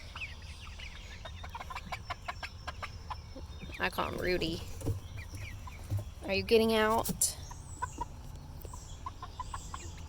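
Chickens cluck and squawk close by in short bursts, with a rooster-like call rising sharply, while a person talks quietly in between.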